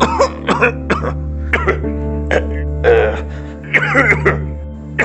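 Repeated harsh coughs and throat clearing in irregular bursts, close and loud, over a constant low hum.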